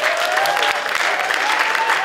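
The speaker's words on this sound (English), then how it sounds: "Give yourselves a round of applause." Dense applause from a large audience of students and teachers at a school's final concert, steady and sustained throughout with faint voices mixed in.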